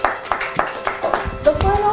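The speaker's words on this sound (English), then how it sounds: "Let's give him a round of applause." Applause for a child at a kids' talent and skills show: a few sharp, evenly spaced claps, then a brief burst of louder clapping with voices talking.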